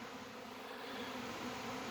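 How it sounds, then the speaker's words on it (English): Honey bee swarm near backyard hives, a steady dense buzzing hum that fills the air without pause, moderately distant and even. "So I heard this massive amount of bees."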